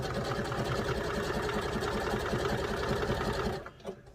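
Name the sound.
sewing machine stitching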